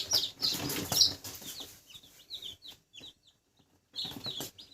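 Chicks peep in short, high chirps, several birds calling in scattered bursts with brief quiet gaps between.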